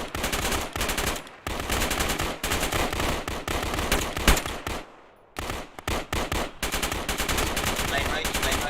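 Gunfire in a firefight near a bunker, with dense bursts of rapid automatic fire that keep going almost without a break, loud and close, apart from one short lull partway through.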